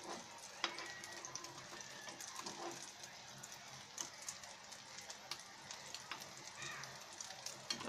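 Egg and potato omelette frying in a flat pan gives a quiet, steady sizzle with scattered small crackles and occasional scraping of a spatula.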